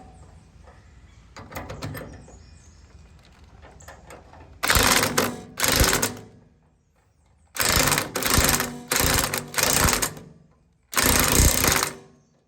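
Socket wrench tightening a lock nut on an equipment trailer axle: several loud, close bursts of rapid ratcheting clicks, each lasting about a second, separated by pauses with softer handling noises.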